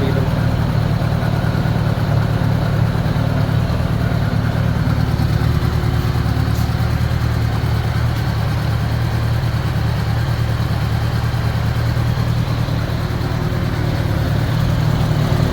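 A bobber-build motorcycle engine idles steadily with a low, rough, slightly uneven throb from carburetors out of sync, loud and close throughout with no talking.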